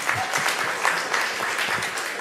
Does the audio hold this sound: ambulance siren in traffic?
no